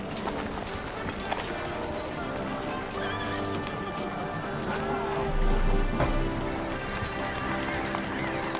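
A horse gallops in the video game Kingdom Come: Deliverance II, rapid rhythmic hoofbeats clopping close by, with a whinny and a burst of louder thudding midway, under quiet game ambience and people talking.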